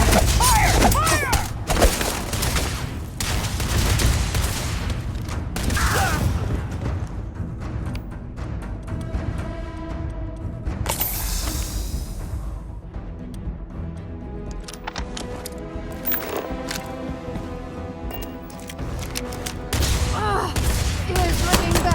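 A volley of gunfire follows a shouted order to fire, with heavy bursts of shots and thuds packed densely at the start, then a sharp blast and scattered rhythmic cracks under game music and voices.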